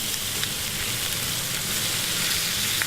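Lamb chops sear in a dry pan over high heat, giving a steady, close, loud sizzle with no talking.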